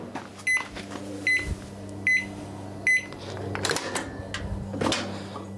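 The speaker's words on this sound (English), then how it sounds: "There's nothing wrong with this microwave." A trash-picked inverter-type microwave oven runs with a steady low hum, punctuated by several sharp clicks and beeps, followed by clunks like the door opening, heard close in a quiet room.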